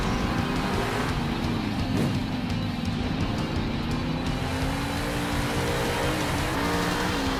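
Monster truck engines from the Monster Jam Steel Titans 2 video game roar steadily throughout, a dense continuous drone with wavering revs and occasional tire squeal, loud and unbroken with no talking.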